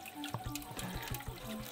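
Water runs through a float valve into a chicken coop's water tank, a steady trickling and splashing flow, close and fairly quiet, with no talking.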